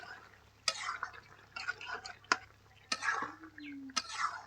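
Jackfruit, shrimp and potato curry stirred in a pan, a few sharp scrapes and clacks of a spoon against the pan over soft sizzling, near and moderately loud, with a brief tonal whine partway through.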